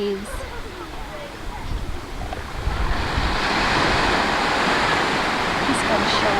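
Ocean surf breaking at a beach, loud, steady and close, with wind rumble on the microphone, swelling stronger in the second half.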